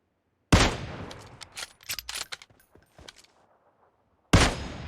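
Gunfire in PUBG Mobile on the Livik map, a rapid burst of close, sharp shots with a ringing tail, falling quiet before another loud shot lands at the end.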